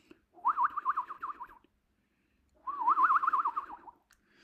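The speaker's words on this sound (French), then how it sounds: "j'entends l'oiseau qui fait" A bird sings in two warbling, wavering phrases, each about a second long with a pause between them, fairly clear and close with no talk over it.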